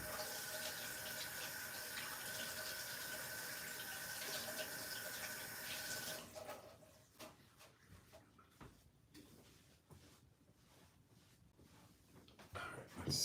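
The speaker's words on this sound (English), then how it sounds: "Be right back to wash my hands." Tap water runs steadily into a sink during hand washing in a home kitchen, a loud continuous rush for about six seconds, then fainter splashes and scattered clatter as the flow stops.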